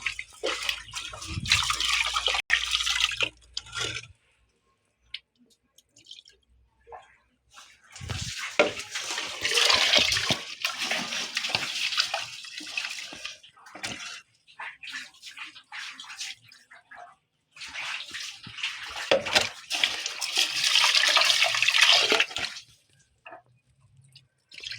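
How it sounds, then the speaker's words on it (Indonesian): Rice is washed by hand in water, three separate bursts of close sloshing, swishing and trickling, with quiet gaps between them. "Nah, ini kita akan mencuci berasnya"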